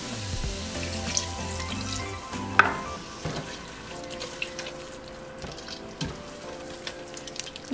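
Beef broth poured into a pot for green chile stew and stirred in, a close, soft liquid swish and sizzle with scraping spoon stirs and a few clinks, no talking.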